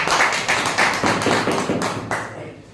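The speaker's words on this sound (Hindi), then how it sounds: "एक बार जोरदार ताली होना चाहिए" An audience at a network-marketing training session claps, a rhythmic run of roughly ten loud, evenly spaced hand claps that slows and fades toward the end, with no talking over it.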